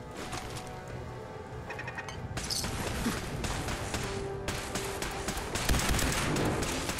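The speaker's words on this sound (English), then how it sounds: "It's a frickin' turret!" Turret gunfire in Fallout 4: rapid bursts of automatic shots crackle amid combat noise, growing louder and denser partway through and continuing in heavy volleys to the end.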